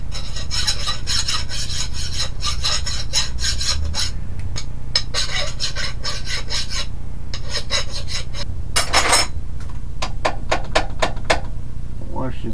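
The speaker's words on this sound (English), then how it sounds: "Get my file here, clean the burrs off." A metal file rasps burrs off a freshly drilled hole during a Honda lawn mower axle and wheel job, in quick repeated back-and-forth strokes, close and loud, with a few short pauses.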